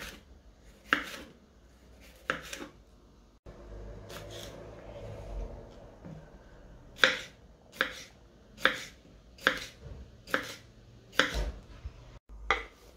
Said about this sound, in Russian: Нарезаем перец. Нарезаем его вот такой вот соломкой.